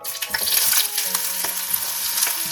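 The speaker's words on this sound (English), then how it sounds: "And this is a pan, the oil is nice and hot." Onions frying in hot oil in a pan for a breadfruit curry with coconut and dry red chilies, a steady close sizzle and crackle with some stirring scrapes.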